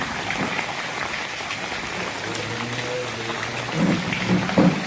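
Light, drizzling rain hisses steadily in the background while a person speaks briefly near the end, the downpour continuing under the voice.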